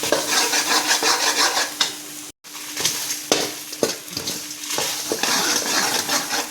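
A spoon scrapes and stirs masala as it fries in a pan, with a steady sizzle and frequent metallic clinks against the pan. One brief dropout interrupts the close, continuous cooking sounds.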